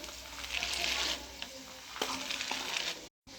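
Cumin, garlic, curry leaves and roasted gram fried in oil for churumuri, a steady close sizzle with light stirring clicks, ending in a brief cut to silence.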